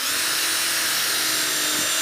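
A power drill with a cut-off pin chucked as a bit whines steadily at close range while working an oak barn door, a continuous high buzzing with a faint rubbing undertone and no pauses.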